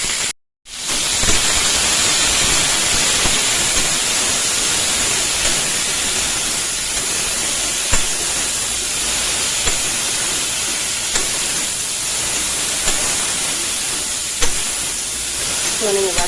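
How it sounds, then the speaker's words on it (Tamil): Okra sautéing in a pan with turmeric, a loud continuous hissing sizzle with occasional faint clicks of a spoon against the pan, heard up close without voices. "அந்த அளவுக்கு வெண்டைக்காயை நல்லா வதக்குங்க"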